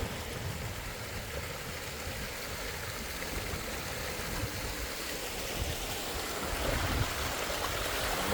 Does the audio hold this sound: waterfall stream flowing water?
yes